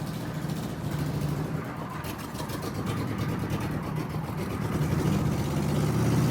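Car running on a home-built two-cylinder engine made by cutting a four-cylinder in half, pulling away with a rough, throbbing low drone that swells slightly as it rolls forward.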